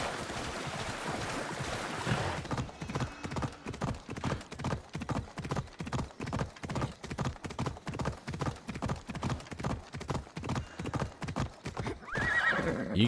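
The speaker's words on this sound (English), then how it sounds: "You can get off the horse, bub." Steady rhythmic hoofbeats of a horse in Assassin's Creed Odyssey clip-clop at a trot over a wash of ambient noise, continuing evenly for most of the stretch.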